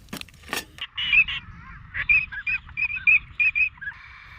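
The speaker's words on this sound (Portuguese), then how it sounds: "Reproduzir gravações de cantos reais de patos é uma maneira confiável de" Recorded calls of real ducks played back by a hunter to lure birds: a run of rhythmic quacking honks, loud and fairly close, repeating in quick bursts with a couple of sharp clicks at the start.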